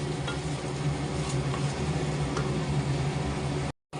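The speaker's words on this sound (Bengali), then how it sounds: "এই যে আলুর দম কষানো হচ্ছে, দেখতে পাচ্ছ" Potatoes frying and being stirred in spiced oil for aloo dum, a steady close sizzle with a low rumbling bed throughout, cutting out abruptly just before the end.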